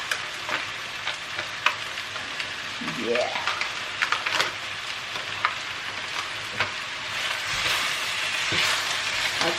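Chinese stir fry with ginger sizzling and frying in a pan, a steady crackling hiss with spitting pops and occasional stirring clatter, close up, with a brief voice murmuring over it.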